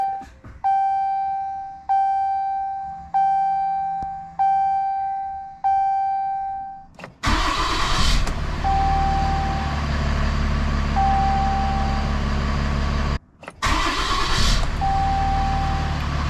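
A Ram 3500 truck's ignition key cycled on and off several times: a repeated warning chime sounds in regular bursts, then a loud steady engine-like hum and fan noise cut out briefly and come back, with a faint beep over it.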